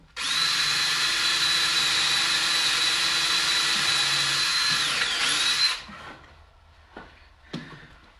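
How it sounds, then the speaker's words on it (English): A power drill drives a screw into wood while building a planter or craft table, one loud steady whir lasting nearly six seconds, then a drop to quiet with a couple of faint knocks. "Let's get one screw in."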